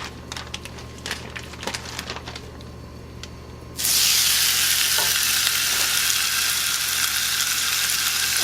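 Chicken fajitas hit a pan over medium heat and burst into a loud, steady sizzle that goes on after a quieter stretch of light clinks and handling sounds.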